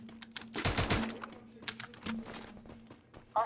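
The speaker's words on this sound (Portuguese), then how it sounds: "Esse barulho do teclado." Computer keyboard typing during an online gaming session: bursts of rapid key clicks and clacks, close and crisp, with scattered single taps in between.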